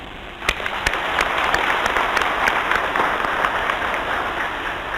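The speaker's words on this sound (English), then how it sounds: "can we therefore give a round of applause" An audience at a fundraising dinner in Malawi breaks into steady applause, dense clapping from many hands that swells quickly and holds at an even level, with no speech over it.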